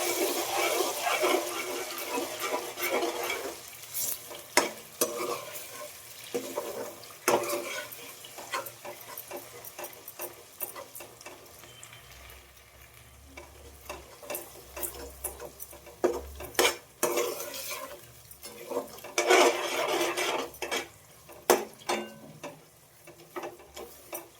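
Semolina halwa is stirred in a pan, with a metal spoon repeatedly scraping and clinking against the pan in an irregular rhythm, close and fairly clear, without speech.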